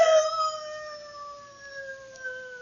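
Three-quarter Irish setter howling in a radio drama, a single drawn-out, clear howl that slides slowly downward, fairly close and alone with no talk.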